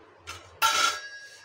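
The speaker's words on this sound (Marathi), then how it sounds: "भाजी पुन्हा एकदा हलवून घेऊ।" A spoon stirs Maharashtrian dal vangi, a lentil and brinjal curry, inside a pressure cooker: a brief soft scrape, then a louder, longer wet scraping swish up close, with no voices.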